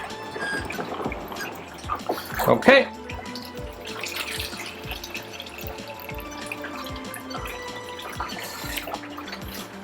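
Blue pre-wash rinse water pours and splashes steadily from a film developing drum in the background while a voice speaks briefly, with a rhythmic low clicking pulse running throughout.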